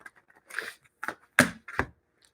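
Tarot cards shuffled and flipped from a deck, giving several short papery snaps and riffles, a few sharper card slaps near the end, close and fairly quiet with no talk.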